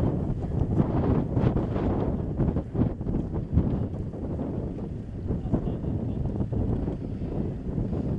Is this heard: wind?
yes